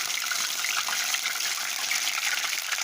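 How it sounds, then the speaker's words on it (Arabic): Chicken pieces fry in hot oil for crispy Kentucky-style fried chicken at home, a loud, dense and steady sizzle with no voices over it. "بسم الله الرحمن الرحيم، نروح حاطينها في الزيت"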